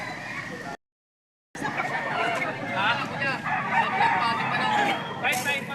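Chickens at a market, with rooster crowing and clucking mixed into a busy crowd, voices talking throughout, a brief dropout early on.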